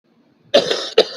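A single sharp cough followed quickly by a second shorter one, close and loud after a brief quiet breath.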